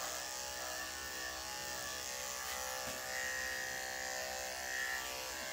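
Electric clippers shaving an animal's fur give a steady, close mechanical buzz that runs unbroken, swelling slightly in places as the blades move through the coat, with no talking.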